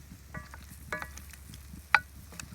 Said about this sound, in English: Here's the chicken sizzling away.